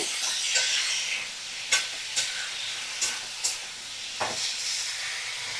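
Vegetables sauté in a pan over a medium flame, a steady sizzle punctuated by about six sharp spatula scrapes at uneven intervals, close and moderately loud, with no talk.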